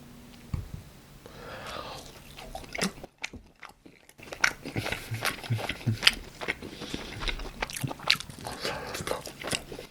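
Crisp bites and crunchy chewing of a fried cheese stick from a BHC side menu, heard up close in a quiet room as a string of sharp crackles and softer chews with short pauses between.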